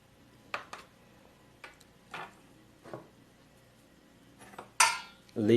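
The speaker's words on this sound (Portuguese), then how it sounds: "Vamos picar ela para facilitar aqui o processo da homogeneização." A knife cuts through 50 grams of butter for homemade potato bread dough, a few separate soft knocks of the blade against a board, spaced unevenly, followed by louder clatter near the end.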